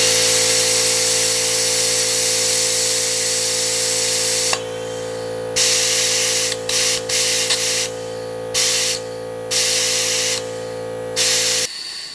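Compressed air hisses loudly through a brake bleeder on a car's brake system, a steady spray with a mechanical drone beneath, then breaking into a series of short bursts as the flow is modulated.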